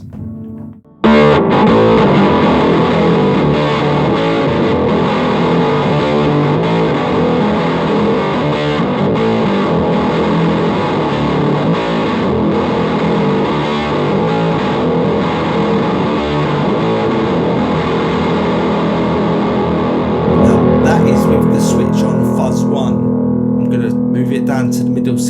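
Electric guitar chords strummed through a Behringer Super Fuzz SF300 pedal, thick and buzzing, playing continuously at a loud level with the tone shifting near the end.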